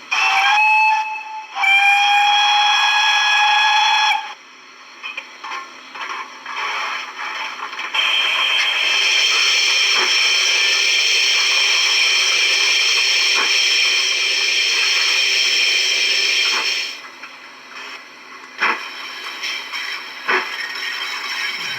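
Zimo sound decoder effects from a Lionheart BR 55 model steam locomotive: a shrill steam whistle, then a long mechanical hiss with clanking and ratcheting clicks, fairly loud and close.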